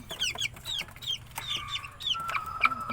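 Chickens and young chicks cluck and peep close by as they peck at leaves, with short chirps repeating and a louder sustained call near the end.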